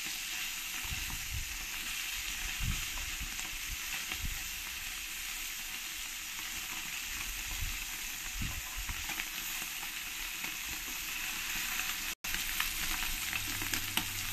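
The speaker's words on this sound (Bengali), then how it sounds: "এই পুঁটি মাছগুলো আমার ভাজা হয়ে গেছে।" Puti fish sizzling in oil in a pan, an even crackling fry held for the whole stretch with a few brief stirring or turning touches and no voices.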